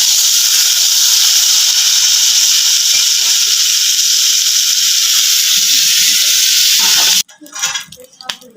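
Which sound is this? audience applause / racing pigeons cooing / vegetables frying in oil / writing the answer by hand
vegetables frying in oil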